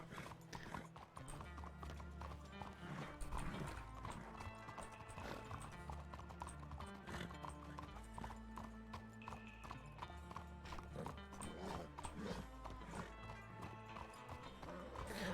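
Horse hooves clip-clopping in the RedM Western roleplay game, a steady walking rhythm of hoofbeats with an occasional whinny over game music.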